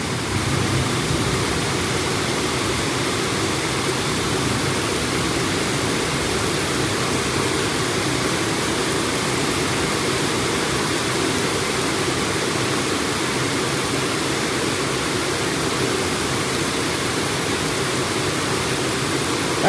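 Heavy rain pours down with water overflowing everywhere, a dense, steady roar of rushing water that stays loud and unbroken throughout, with no voices.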